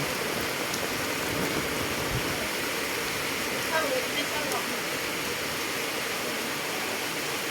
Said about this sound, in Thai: อ่าตกฝนตกรอบที่สองนะ